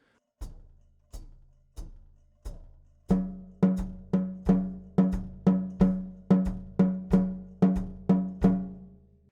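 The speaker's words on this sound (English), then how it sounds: "Now the rhythm of the left hand is a tumba," A Latin tumba rhythm on drums begins with a few sparse, evenly spaced low hits, then settles into a steady, repeating pattern of ringing tom strokes.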